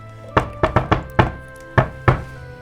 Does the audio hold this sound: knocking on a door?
yes